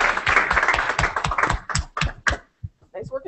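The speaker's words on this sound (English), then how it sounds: "let's give all four of our speakers another round of applause for some really great presentations" Audience at a SETI Institute student presentation event gives the speakers a round of applause, dense clapping at first that thins into a few scattered, separate claps before stopping.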